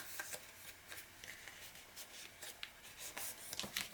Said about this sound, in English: I'm just going to fold it over